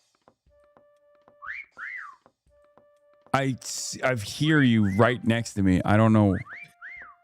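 Whistle spammed over and over in a video game, heard as short rising chirps in quick bursts, first alone and then trailing after a stretch of close, excited talk.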